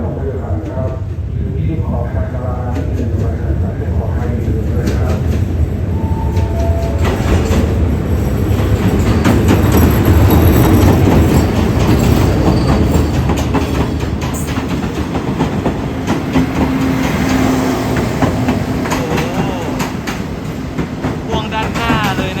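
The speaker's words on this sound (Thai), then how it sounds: "รถด่วนขบวนที่ 85 เข้าสุราษฎร์นะครับ ฮิตาชิ 4516 ทำขบวน" SRT express train 85, hauled by Hitachi locomotive 4516 with Japanese sleeper cars attached, arrives at Surat Thani station, a loud, close, continuous rumble of wheels with clattering and squealing as it rolls through, while people talk nearby.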